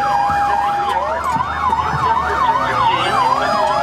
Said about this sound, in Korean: 비상 상황이 발생해 소방대원들이 긴급 출동하는데